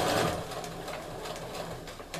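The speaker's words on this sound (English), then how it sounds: "I'm just gonna go ahead and sew down." Sewing machine stitching down quilt fabric along a drawn line on a small square, a steady close, continuous whirring hum that runs throughout, slightly louder at the very start.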